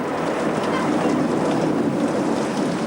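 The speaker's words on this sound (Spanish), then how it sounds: "empieza a llover." Rain beginning to fall on a lake, a steady broadband hiss of drops hitting water, even and continuous without distinct individual patters.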